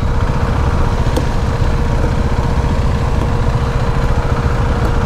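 Steady loud engine drone of a KTM Duke 390 motorcycle being ridden, a constant low rumble with road and wind noise throughout and no clear speech.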